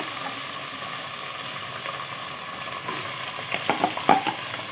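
Coarse minced meat (keema) fries in hot oil in a pan for khara masala keema, a steady soft sizzle and hiss with a few louder crackles and scraping stirs toward the end.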